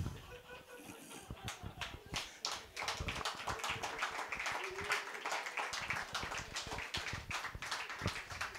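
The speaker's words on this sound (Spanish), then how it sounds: "qué bonito me aplauden" An audience applauds at a comedy show at Foro Quetzalcoatl: dense, crackling hand claps that start lighter and then swell into steady, sustained clapping, heard from somewhat far off.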